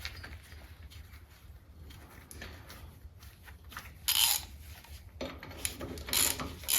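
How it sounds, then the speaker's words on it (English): Ratchet clicking as a nut with a new spring washer is tightened onto the engine pulley of a Bolens Ride-a-matic, quiet mechanical scraping first, then louder bursts of rapid clicks near the end. "we've got a new spring washer to go on there, and put the nut back on here"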